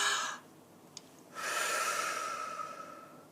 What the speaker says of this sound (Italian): facciamo un bel respiro profondo inalando dalla bocca perché entra più aria